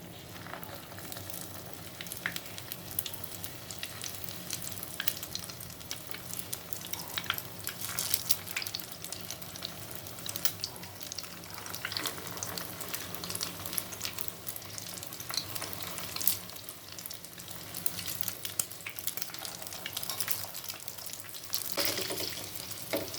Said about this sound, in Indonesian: Goreng.